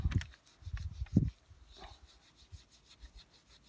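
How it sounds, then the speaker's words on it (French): Wet steel wool scrubbed against a car wheel rim, giving a few close, coarse rubbing strokes early on that fade into quieter scraping and faint scratches. "c'est comme si on ponçait la jante avec la laine d'acier."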